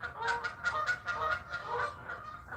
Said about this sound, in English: The geese are saying good morning to you guys.